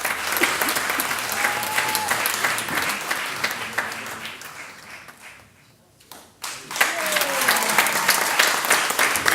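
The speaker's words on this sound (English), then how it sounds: "We give them another round of applause" At an entrepreneurship awards ceremony, an audience applauds an award presenter with sustained loud clapping that fades out briefly, then swells again.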